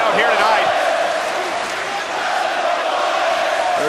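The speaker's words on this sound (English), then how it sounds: "They're chanting for Bray Wyatt." A rabid wrestling crowd at a WWE Raw event roars steadily in a dense, sustained wash of voices chanting for Bray Wyatt, with a commentator's voice faintly mixed in throughout.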